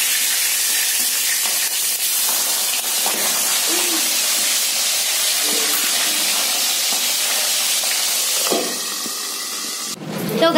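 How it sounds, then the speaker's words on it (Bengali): A fish head fries in a pan with a steady, dense sizzle and hiss that fills the whole stretch, with faint clinks of stirring and a louder clatter near the end. "এইটো মাছৰ মাথাটো ভাজি লওঁ এনেকৈ ৰঙা ৰঙা কৰি"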